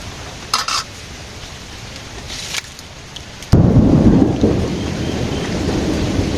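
Thunder rumbles and cracks over a village, followed by a heavy burst of steady rain that sets in loud and close and keeps pouring to the end.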